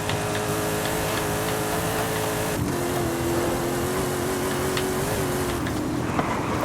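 A steady V8 engine drone from a Mercedes AMG Hammer Wagon in Forza Horizon 5, with a rising and falling harmonic whine, holds for several seconds, loud and continuous with no voices.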